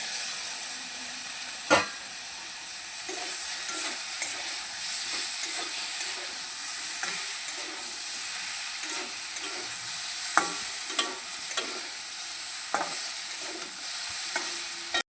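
Potatoes and pointed gourd with split green chillies fry in a pan while being stirred. A close, steady sizzle runs throughout, broken by repeated scraping knocks of the spatula against the pan. No one talks.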